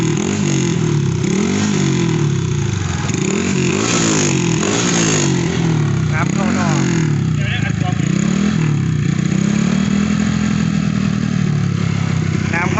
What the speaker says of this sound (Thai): นี่ครับเสียงก็ประมาณนี้นะผม แคมท่อสเตย์ครับเสียงประมาณนี้แหละ